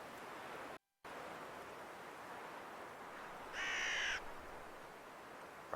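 A crow gives one short, harsh cawing burst, fairly faint above a steady background hiss.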